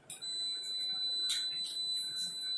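A fire alarm panel sounds a steady, piercing electronic alarm tone, continuous and fairly loud, with brief bursts of higher hiss layered over it and no voices.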